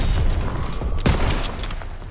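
Gunfire in the World War II shooter game Call of Duty WW2, a loud dense rattle of shots with one sharp louder blast in the middle, rumbling continuously without speech.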